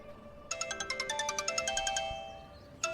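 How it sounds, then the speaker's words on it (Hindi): A phone ringtone plays a rapid series of bright, evenly spaced electronic beeps for about a second and a half, then fades; one more beep starts at the end. "गंगाधर पंडित जी का फोन है।"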